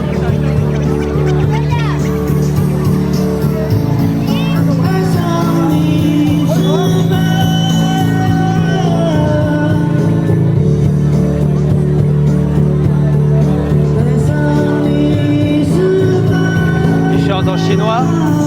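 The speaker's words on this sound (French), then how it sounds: "Mais pour l'instant, il faut se déplacer dans la foule." A dense crowd fills a packed square in a Chinese city with a loud, continuous murmur of many voices, shouts and children's calls all around. Someone talks close by throughout.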